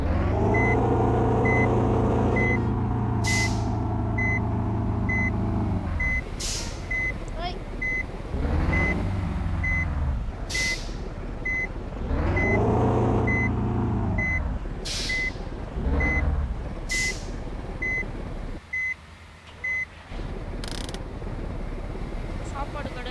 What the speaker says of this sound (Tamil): எங்கள் வண்டியை ரிவர்ஸ் எடுக்கிறேன்.